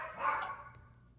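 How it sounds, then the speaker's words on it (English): Dog barking somewhere in the background, a single muffled bark that fades quickly, indoors and off at a distance. "You love my dog barking in the background?"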